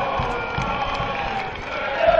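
A large crowd at a Quick Boys versus Katwijk football match roars and cheers continuously, a dense, steady wall of voices heard from within the stands, swelling slightly toward the end.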